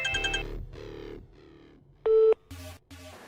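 A phone rings with a short electronic melody, then bursts of steady tones repeat in a clear, fairly quiet pattern with no one speaking.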